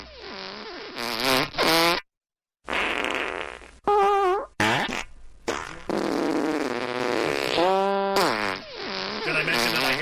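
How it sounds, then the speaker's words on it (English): Fart sound effects played on a morning radio show, a rapid series of raspy, sputtering bursts with rising and falling pitch, separated by short silences, loud and close. "that was a fart"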